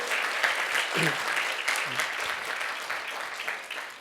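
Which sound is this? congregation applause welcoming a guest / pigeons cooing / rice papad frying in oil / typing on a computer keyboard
congregation applause welcoming a guest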